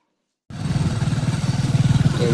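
Motorbike engine bursts into life after a short silence and settles into a close, loud idle with a steady throbbing pulse.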